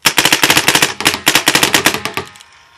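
A paintball marker loaded with Rrison paintballs fires rapidly and loudly up close, with about twenty sharp, evenly spaced pops packed into a couple of seconds before a brief trailing echo.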